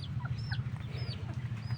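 Chickens clucking in short, repeated calls over a steady low hum at a farmyard, moderately close, with no talking.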